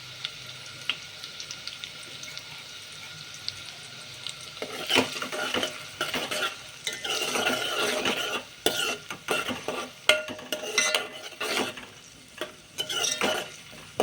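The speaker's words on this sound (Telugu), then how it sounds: "ఉల్లిపాయ ముక్కలు, పచ్చిమిర్చి ముక్కలు బాగా ఫ్రై అయ్యాక" Onion and green chilli pieces fry in a pan: a soft sizzle at first, then close, busy stirring and scraping with sputtering bursts that continue to the end.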